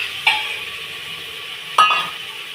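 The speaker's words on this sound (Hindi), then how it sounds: "अब इसमें डालेंगे टमाटर। ये हमारे टमाटर, डालेंगे टमाटर।" Tomatoes go into a hot pan with a soft steady sizzle, and two sharp scrapes of stirring stand out against the quiet frying hiss.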